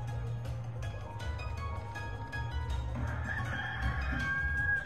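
A slot machine's electronic rooster crows over a steady low casino hum, with tonal chimes in the background and no voices.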